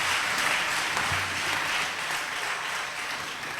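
Church congregation applauding at a Sunday service, a steady dense wash of clapping that holds at an even level throughout without a break.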